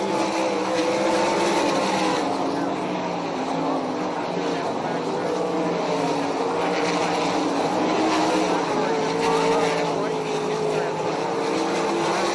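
360 sprint cars racing on a track, engines droning loud and continuous as the field circles, with rising and falling passes.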